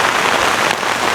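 Heavy rain pours steadily onto garden plants, including durian and coconut trees, as a dense, loud, unbroken hiss close by.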